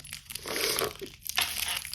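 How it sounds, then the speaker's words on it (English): Small plastic bags crinkle and rustle close up as they are cut and handled, in a dense crackling flurry with no talking. "I'm cutting up all these little plastic bags"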